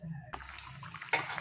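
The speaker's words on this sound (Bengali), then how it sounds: "ভালো করে মশলা কষানোর পর এবার আমি জল দিয়ে দেবো।" Water is poured into a pan of spiced mustard-paste rohu fish curry base, making a short splashing, sloshing rush that comes in two bursts, close and fairly quiet.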